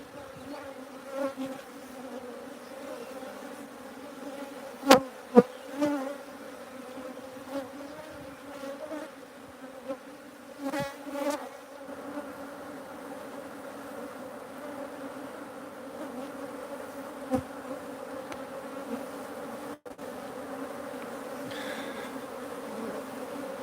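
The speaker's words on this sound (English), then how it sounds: "So when these swarms land, it only takes approximately 10-15 minutes." A honeybee swarm settling into a hive box at a bee sanctuary, its dense, steady buzzing drone filling the whole stretch, with a few louder bees passing close and occasional sharp knocks.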